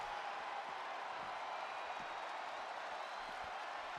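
A wrestling crowd at a live show produces a continuous dense roar of cheering and applause, steady and moderately distant, with no clear chant rhythm standing out.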